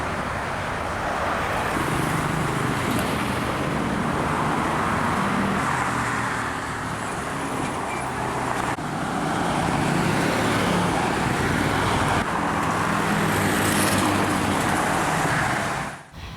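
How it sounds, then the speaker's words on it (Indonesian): Heavy holiday traffic on a congested Indonesian toll road near Jatiluhur, a continuous broadband roar of passing engines and tyres with occasional heavier vehicles rumbling by, sustained and fairly close. "Kepadatan kendaraan terutama terjadi di kilometer 82 sekitar kawasan Jatiluhur"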